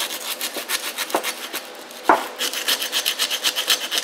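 Emery cloth rubbed by hand over a rusty universal joint from a vehicle driveshaft, a close, steady scratchy rasping in quick back-and-forth strokes with one sharper knock partway through.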